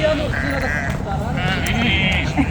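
A flock of sheep bleats in a Moroccan desert, a dense chorus of overlapping calls running continuously with people talking underneath.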